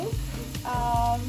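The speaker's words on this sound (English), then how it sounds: "I'm going to cook this pork belly first." Pork belly sizzles and crackles steadily in a hot pan, a close, bright frying hiss with brief stirring or shifting sounds.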